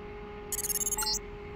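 A Deus Ex in-game phone call chimes in, a short fluttering electronic ringtone trill lasting under a second over a steady background hum.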